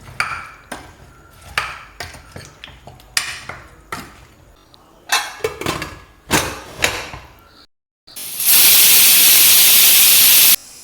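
A pressure cooker cooking Kerala sambar, after a run of sharp metal clinks and taps from pots, bursts into a loud, sustained steam whistle and hiss that lasts a few seconds before cutting off.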